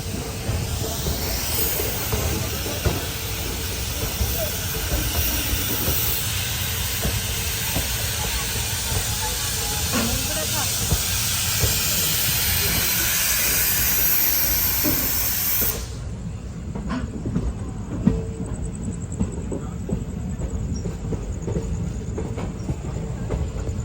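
Kaveri Express sleeper train running between Mysuru and Chennai, a continuous rumbling roll with hissing air and faint rhythmic wheel clicks, steady and close before the hiss drops away near the end.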